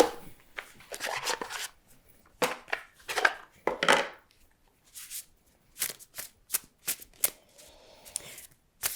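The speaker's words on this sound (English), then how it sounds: "I'm going to pull a card to clarify this" Cards are shuffled and handled near the mic in a quiet room, with quick papery riffles and flicks coming in bursts with short pauses between them.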